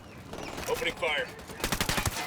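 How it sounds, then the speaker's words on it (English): Rifles fire in the video game Ghost Recon Wildlands, a quick rapid burst of shots near the end of the clip. Quieter tonal game sounds come before it, and the whole passage is fairly faint. "Opening fire."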